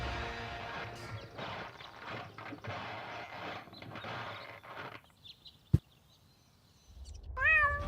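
A cartoon cat meows in the video game Deponia, a short rising-and-falling cry near the end that follows a sharp mechanical clank and a stretch of busy game sounds and effects.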